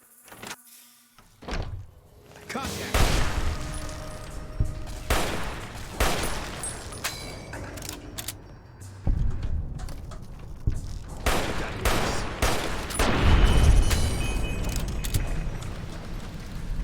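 Video game gunfire as a player shoots a creature from afar: repeated sharp shots and bursts come close and loud, mixed with thuds and mechanical clanks across a busy stretch.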